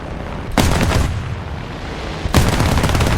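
Two short machine gun bursts from a fighter aircraft in War Thunder during a dogfight with a P-61, loud and close, each burst a dense rattle of rapid shots over a steady engine drone, the first just after the start, the second near the end.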